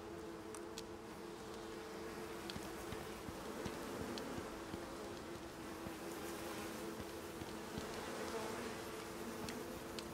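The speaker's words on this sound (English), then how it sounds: "I hear bees." Bees buzz in the survival video game Icarus, a faint, continuous insect drone running under a steady low hum of game ambience.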